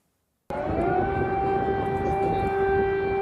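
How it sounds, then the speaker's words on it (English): A loud air raid siren in Kyiv, Ukraine, starts abruptly at night and holds a steady, sustained wail with no voices. "air raid sirens sounded in the Ukrainian capital on Tuesday night"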